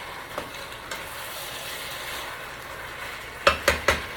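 Pepper steak simmering in sauce on high heat, a steady soft sizzle with occasional spoon scrapes and three sharp clinks of the utensil against the pan near the end.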